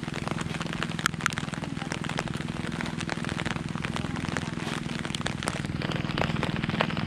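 Steady rain patters down on a surface at a dragon fruit farm, a dense continuous hiss of drops with occasional sharper taps, no voices.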